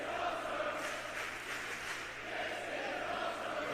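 A wrestling crowd in Milton Keynes chants in a steady, sustained roar, the massed voices pulsing slightly in rhythm and filling the whole space.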